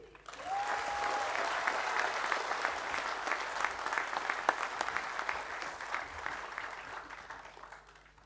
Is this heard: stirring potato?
no